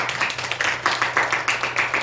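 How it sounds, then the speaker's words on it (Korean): A church congregation bursts into a short round of steady hand clapping, many hands beating in quick, even rhythm at moderate volume with no talking over it. "우리 박수 좀 해주시기 바랍니다."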